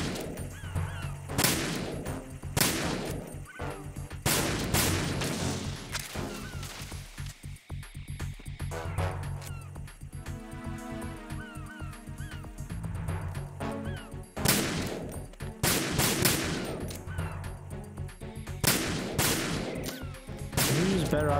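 Bursts of gunfire from the Metal Gear Solid 2 video game, sharp repeated shots punching through a dense, busy mix of game music and effects, with a quieter stretch in the middle before the firing picks up again.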